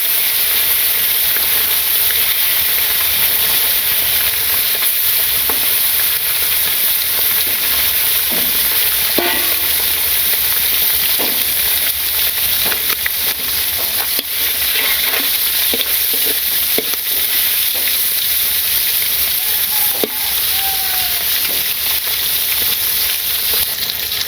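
Sponge gourd fries in a pan with a loud, continuous sizzle and hiss, broken by occasional scraping stirs, in a rainy-day village kitchen.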